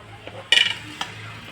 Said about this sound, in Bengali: চলো কড়াইটা ধুয়ে নেব